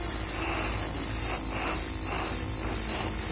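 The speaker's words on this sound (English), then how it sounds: "I'm going to go ahead and turn it on its side and airbrush the edges." Airbrush spraying food colour onto the edges of fondant bows for a gift box cake, a steady continuous airy hiss held close and fairly loud throughout, with no talking.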